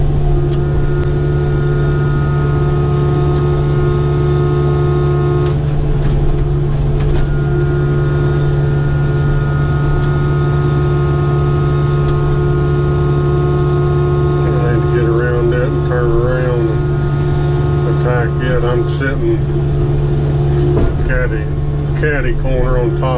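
A Kubota KX057-5 excavator works on a stump, its engine holding a steady, close droning hum throughout, with wavering hydraulic whines rising over it in the later part.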